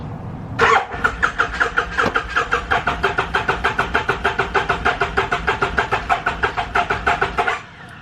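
A carbureted motorcycle engine cranks repeatedly without catching, a steady rapid rhythm of loud, close starter-and-compression pulses that runs for about seven seconds before stopping abruptly.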